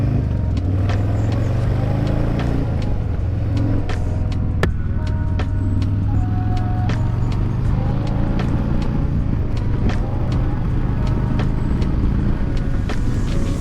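Harley Davidson Breakout motorcycle with a windshield and an aftermarket tune, riding along with a steady loud engine drone and heavy wind rush throughout, alone without speech.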